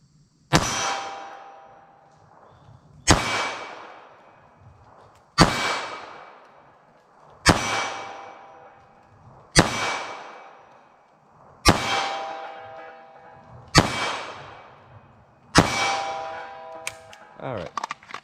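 Eight slow, evenly spaced .380 ACP pistol shots, each a sharp crack followed by a ringing clang off a steel target that decays before the next round.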